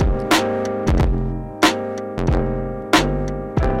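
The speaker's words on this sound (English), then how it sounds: "And this is distortion." Distorted sampled beat from a Teenage Engineering EP-133 K.O. II sampler's distortion effect, with gritty, saturated hits recurring in a steady loop, loud and dense with sustained buzzing harmonics between the strikes.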